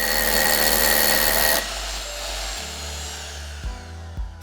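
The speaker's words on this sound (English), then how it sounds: "Start by drilling the hole to the correct diameter and depth." A power drill bores a hole for a capsule resin anchor, running loud and steady, then the pitch drops as it slows and stops, leaving a low hum and a couple of knocks.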